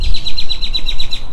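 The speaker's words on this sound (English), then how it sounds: "Man, that bird's loud." A bird calls loudly and close by, a rapid string of sharp, high chirps repeated in quick succession with no other sound around it.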